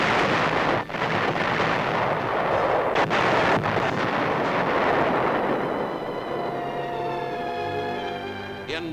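Demolition blasts destroy Japanese tanks during postwar disarmament, captured in an archival newsreel; heavy, continuous rumbling booms with sharp bursts near one and three seconds, fading into a quieter tonal hum toward the end.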